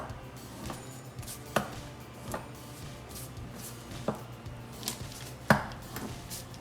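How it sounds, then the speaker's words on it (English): A knife cuts garlic knot dough into long strips about an inch thick, a few soft thuds against the board spaced irregularly over steady background hum. "So for garlic knots, I'm gonna cut them in long strips, about 1 inch thick"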